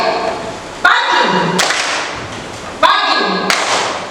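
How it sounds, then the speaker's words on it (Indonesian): Two sharp bursts of audience clapping in a classroom clapping game, each a loud ragged group clap lasting under a second, with room reverberation after each. "Jadi pagi tepuk satu, siang tepuk dua, malam tidak tepuk."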